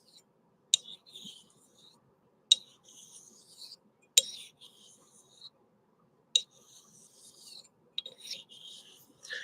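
A straight razor is honed on a coticule stone: a sharp tap is followed by quiet scraping strokes, repeated about five times at an even pace in a quiet room.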